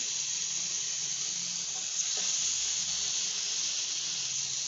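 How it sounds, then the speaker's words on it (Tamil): Fish pieces frying in a pan of hot oil at home, a steady broadband sizzle and hiss that holds at an even level throughout with no pauses, close to the pan. "எண்ணெய் சூடாகிடுச்சு சத்தம் கேட்டுக்கோங்க"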